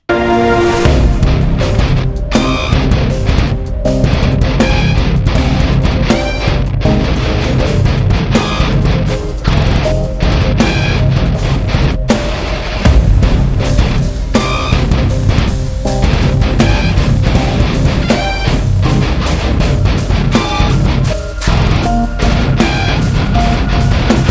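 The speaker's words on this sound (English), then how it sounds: "editing modern metal guitars so that they sound like this." Heavy, tightly gated distorted electric guitars play chugging metal riffs with abrupt stops and sharp rhythmic cuts, loud and dense throughout.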